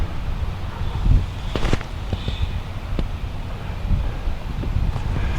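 Gusty wind on a wooded disc golf course buffets the microphone as a steady low rumble, with a few sharp knocks and rustles scattered through, close and fairly loud.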